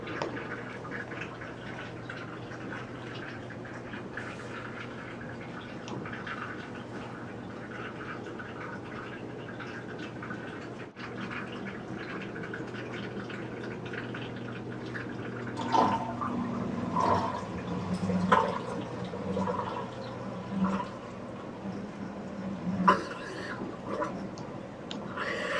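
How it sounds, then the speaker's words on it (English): Water draining from a wash tank on patient care equipment, ending in a gargling sound: steady flowing water and drips, then irregular gurgling bursts toward the end, fairly faint and close. "A gargling sound will be heard when water is completely drained."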